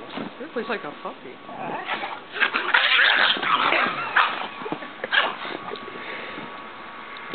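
Dogs play together, a pug among them, with close yips, whimpers and scuffling snorts in an uneven burst. A person's voice talks over the playful noises.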